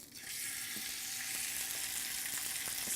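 Mahi mahi fish searing in a hot ridged grill pan, a steady, bright sizzle that rises quickly and holds evenly, close and moderately loud, with a few faint ticks and pops and no talk.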